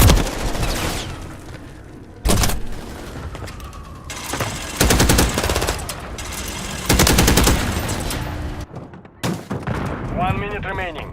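Loud, close machine gun bursts in Call of Duty MW3 gameplay, several hard, sustained volleys broken by short silent gaps, with a faint chirping sound near the end.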